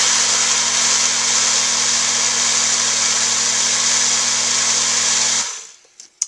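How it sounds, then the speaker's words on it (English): A grinder runs steadily, grinding soybeans soaked in water for homemade soy milk, with a loud continuous whirring hum for about five seconds before it cuts off abruptly, followed by a few faint clicks and knocks. "I'm going to grind out just a little bit more."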